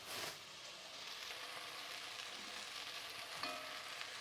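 Sizzling, burning sound effect like hot fat frying: a steady crackling hiss, fairly faint, with a couple of sharper pops near the start and end.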